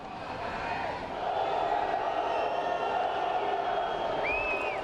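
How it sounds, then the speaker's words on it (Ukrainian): A crowd on Place de la Bourse in Brussels shouts slogans against a far-right march, a dense mass of voices swelling slightly and holding steady, with scattered calls rising above the din. "Люди, які прийшли на майдан пляс Делябурс, у свою чергу вигукували гасла проти тих, що прийшли туди з маршем крайньо правих."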